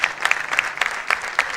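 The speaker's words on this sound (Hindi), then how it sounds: "जोरदार तालियां बिट्टू जी के लिए।" An audience gives a brief burst of loud, uneven clapping for a woman singer who has just finished a ghazal at a seniors' event, the claps sounding close and individually distinct.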